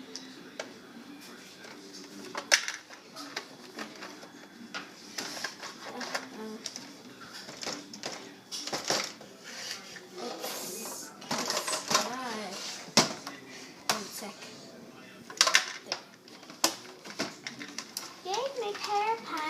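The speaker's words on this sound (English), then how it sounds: "And I just gotta grind in the crank." The crank of a toy Barbie fashion vending machine is turned in a series of clicking, ratcheting bursts with short pauses between them, heard close up and mixed with a voice speaking.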